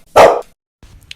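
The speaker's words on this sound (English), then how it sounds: "Suddenly, a dog the size of a pineapple ran up to Kim Jim." A single loud, sharp dog bark sounds close in a comedy radio sketch, cut off quickly and followed by near silence with a faint low rustle.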